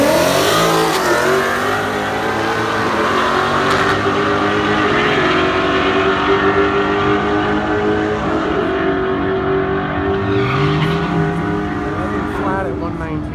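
A stock 2018 Ford Mustang on nitrous roars loudly at full throttle, engine pitch climbing steadily under a continuous drone as it accelerates, with voices talking over it.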